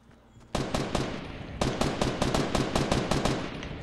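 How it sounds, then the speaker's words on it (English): Rapid automatic gunfire in Fortnite aimed upward at a built structure, starting as a short burst and then running as a loud, continuous rattle of shots with a brief gap, no talk over it. "Are you just shooting up at it?"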